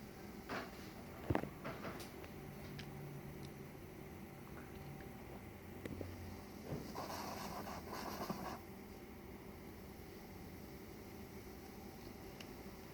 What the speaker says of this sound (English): Makes a great hissing sound.